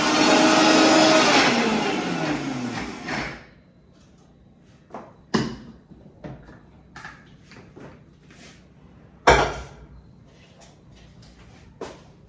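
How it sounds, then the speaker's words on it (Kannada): A mixer grinder grinds coconut, roasted spices and soaked tamarind. It runs as a loud, whirring roar for about three seconds, then cuts off and leaves a few scattered clunks and knocks. "ನೆನೆಸಿಟ್ಕೊಂಡಂಥ ಹುಳಸೆಹಣ್ಣು ಮತ್ತು ಹುಳಸೆಹಣ್ಣು ರಸ ಕೂಡ ಇದಕ್ಕೆ ಸೇರಿಸ್ಕೊಂಡ್ಬಿಟ್ಟು ನುಣ್ಣಗೆ ರುಬ್ಕೊಳ್ಳೋಣ"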